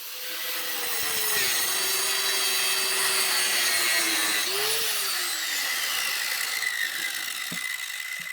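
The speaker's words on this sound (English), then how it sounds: "there's a kickstand that goes right here that I had to grind off with a grinder" An angle grinder grinds the kickstand off a Razor e200 scooter, a continuous high-pitched whine with a shrill metallic grinding edge whose pitch sags and recovers as the disc bites into the metal.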